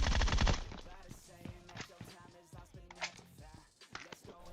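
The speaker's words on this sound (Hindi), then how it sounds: "बस गोलियां पेलनी है।" Bursts of automatic gunfire ring out during a PUBG Mobile match, rapid repeated shots in several rattling volleys, close and sharp, with a voice speaking in between.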